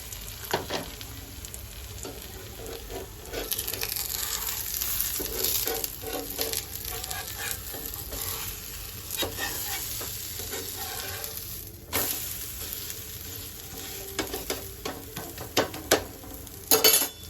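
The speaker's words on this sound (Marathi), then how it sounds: "छान असं खरपूस आपण त्याला भाजून घेऊ" Thalipeeth flatbread roasts in oil on a pan with a continuous close sizzle, joined by occasional scraping and clinking of a spatula as it is flipped and pressed.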